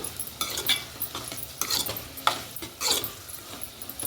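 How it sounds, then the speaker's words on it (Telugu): Onions and tomatoes being stirred in a covered pan, a spoon scraping and clinking against the metal in a few uneven strokes over a faint sizzle, close and moderately loud with no talking. "బాగా కలిపి మళ్ళీ ఇంకొకసారి మూత పెట్టుకుని"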